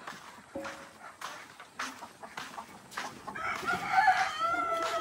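A rooster crows and hens cluck on a backyard poultry farm, the crow rising in the last seconds, moderately near but soft, with light ambient noise and no talk.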